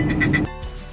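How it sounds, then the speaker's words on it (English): A handheld duck call blown once inside a truck, a short, nasal quack-like honk about half a second long, loud and close, followed by quiet cab hum. "gave Kendall a duck call, and I forgot about it until just now when we got in the truck"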